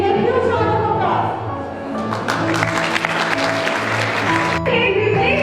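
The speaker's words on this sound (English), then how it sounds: "your huge round of applause" Audience applause at a Balochistan public speaking and scrabble competition, a sustained, fairly loud clapping wash running under music and a voice throughout.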